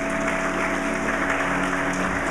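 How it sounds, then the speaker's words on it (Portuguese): A church congregation stands and applauds, a dense, steady wash of clapping that holds at an even level throughout, with a faint sustained tone underneath. "Se coloque de pé, aplauda o Senhor,"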